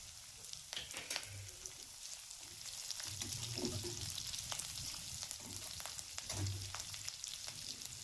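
Chopped chillies dropped into a pan of hot oil with already-fried ginger and garlic, giving a steady close sizzle with a few louder crackling bursts and faint stirring, no voices.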